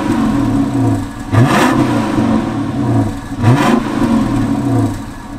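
A high-mileage Dodge Charger Hemi V8 revs twice, each blip rising sharply from a lumpy idle and falling back, loud and close.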